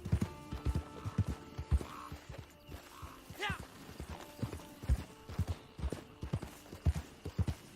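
A horse in the video game Red Dead Redemption 2 Online, one with little health and stamina, clip-clops along in a steady, close rhythm of hoofbeats. A brief whinny-like tone rises partway through.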